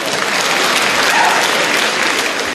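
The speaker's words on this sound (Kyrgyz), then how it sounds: "бир жакшылап кол чаап койсоңуздар" A crowd at a celebration claps loudly and steadily, dense applause holding even throughout before cutting off sharply at the end.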